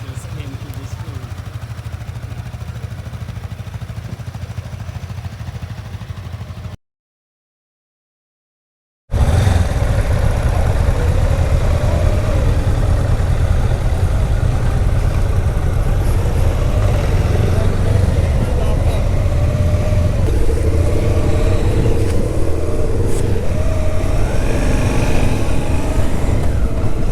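Motorcycle riding along Route 10 on the Israel–Egypt border, engine droning steadily and loud with wind roar, broken by a short silent gap; speech is also present.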